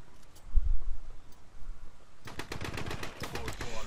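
Gunfire in the shooting game The Club: a burst of rapid, crackling automatic shots in the second half, loud and close, after a quieter stretch with a low thump.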